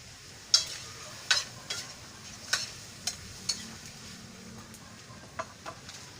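Native chicken pieces sautéed in a pan over a wood fire, a faint low sizzle punctuated by a series of sharp, spaced clinks and scrapes of a spatula stirring.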